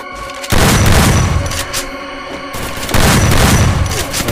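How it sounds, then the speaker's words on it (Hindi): Gunfire in a shooter video game: two loud bursts of rapid shots, each starting abruptly and sustained for about two seconds, with a brief lull between them. "पागल जैसे गोली चला रहा"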